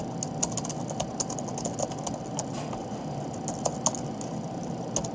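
Someone types a name on a computer keyboard, producing soft, quick, irregular key clicks at close range over a faint steady room hum.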